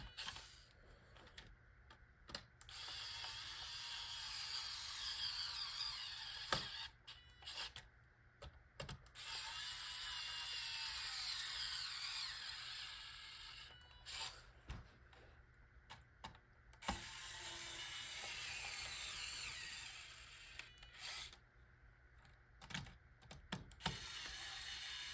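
Small screws are tightened on model Walthers Proto Amtrak Amfleet coaches, giving close, quiet ratcheting clicks and scratchy turning sounds in repeated bursts separated by brief pauses.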